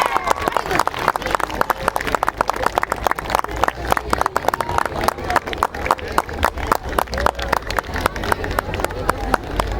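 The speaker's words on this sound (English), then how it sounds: "Give a huge round of applause." An audience at a school Children's Day celebration breaks into dense, sustained applause and crowd noise after the group dance competition winner is announced, with clapping filling the playground steadily throughout.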